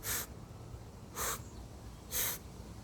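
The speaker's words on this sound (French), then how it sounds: "Inspire une troisième fois." Three short, sharp breaths drawn through the nose during a stress-reset breathing exercise, evenly spaced about a second apart, close and quiet, with no talking.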